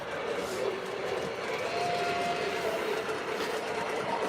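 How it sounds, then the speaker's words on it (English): An MTH programmable O scale model trolley runs on its own on a layout, giving a steady close rattling hum with light clicking over the track, and a faint tone partway through. "This one is MTH programmable trolleys. You set it up on the remote and it runs basically on program mode."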